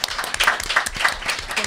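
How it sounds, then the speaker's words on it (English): A brief burst of audience applause at a contemporary art event, a dense patter of clapping heard close and moderately loud. "I think another round of applause, and then we can go."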